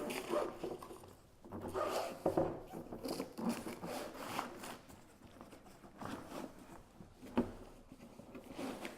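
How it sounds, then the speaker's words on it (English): A riot body shield slides into its storage bag with rough rubbing and scraping of fabric, in uneven bursts of shuffling friction, close and fairly soft. "Slide the body shield in."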